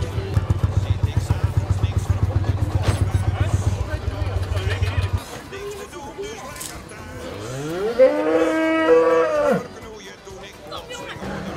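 Cattle mooing at a traditional livestock market in Druten where cows and horses are sold, a loud drawn-out moo standing out over a rhythmic engine-like chug and crowd chatter.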